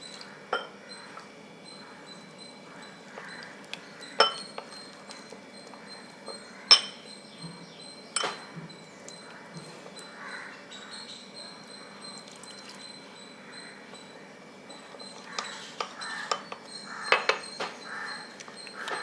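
A spoon stirs custard powder into room-temperature milk in a bowl, making faint scraping and repeated light clinks against the bowl with sharper taps at irregular moments, quiet and close with no speech.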